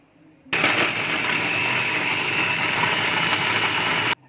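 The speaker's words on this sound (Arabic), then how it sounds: "كده شكلها بعد ما ضربتها بالكبه" A blender whirs loudly and steadily for under four seconds, mixing a fesikh dip with lemon, cumin and green onion, then cuts off abruptly.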